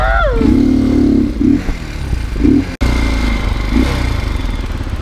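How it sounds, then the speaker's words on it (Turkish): An X Treme Maxx motorcycle rides along with a loud, continuous engine drone and wind rush, close and steady throughout, with brief voice-like tones early on. "Motor sürüyorum."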